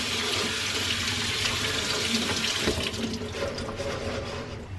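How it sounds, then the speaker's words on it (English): Tap water running steadily into a colander while canned chickpeas are rinsed, a close and constant splashing hiss that softens slightly toward the end. "drain chickpeas or garbanzo beans into a colander and rinsing them to get that extra sodium off"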